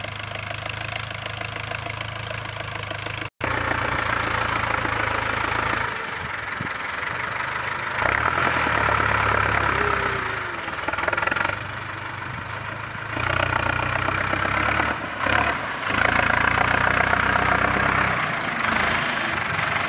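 Diesel engine of a Ford New Holland 6610 tractor levelling a field converted from tree crops to rice paddy, a steady close rumble that shifts in load and pitch as it pushes soil, with no talk.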